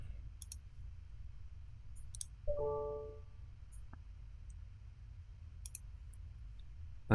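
Lightroom Classic is being used with a computer mouse, heard as a few faint, sharp clicks scattered across a quiet room, with a short soft tonal sound in the middle.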